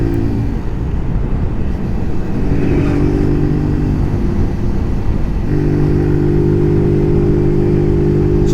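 A Zontes ZT125-U1 125cc motorcycle drops down through its gears, the engine's steady buzzing drone stepping between pitches as it slows, loud and close with wind noise behind.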